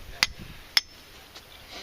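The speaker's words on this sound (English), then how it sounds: "I brought a heavier hammer." A heavier two-pound hammer strikes a rebar stake for a coyote and fox trap, two sharp metallic blows about half a second apart, close and clear outdoors, with a faint third tap after.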